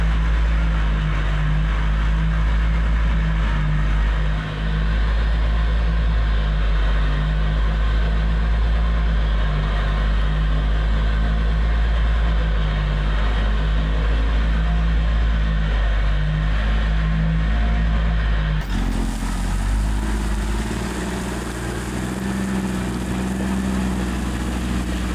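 Diesel dump truck delivering crushed gravel for a driveway, a loud steady engine rumble that shifts in tone partway through as the load is worked, with no talk.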